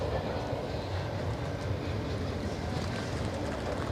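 A Canadian Pacific freight train passing in British Columbia, a steady broadband rumble and rolling rattle that holds evenly throughout, fairly near, with no talk.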